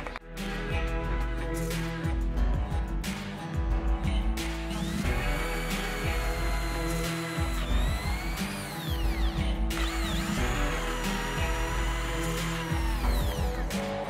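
A ceramic tile being drilled with a Disflex multi-material bit while resting on a support, with a steady, loud, continuous whine and grinding of the drill throughout and no talk.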